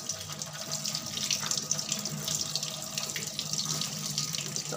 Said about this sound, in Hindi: और ये मैं गर्म पानी से इसलिए वॉश कर रही हूँ